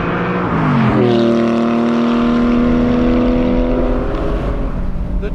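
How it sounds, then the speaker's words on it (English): A DeMan 4.5-litre naturally aspirated Porsche 718 Boxster Spyder flat-six, loud and close, revving up with a deep, bass-heavy tone and rising harmonic pitch before holding a high steady note. "The tone is completely different from any other Porsche. It has more bass, which comes from the bigger bore."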